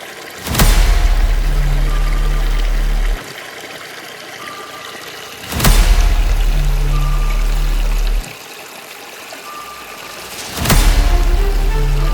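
Rushing water of a small stream flows in three loud bursts, each starting suddenly and cutting off after a few seconds, with a low hum beneath and quieter gaps between.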